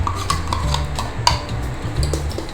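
A spoon scrapes and clinks around a vessel as ground coconut paste is stirred into buttermilk, steady and close with occasional sharper taps against the side.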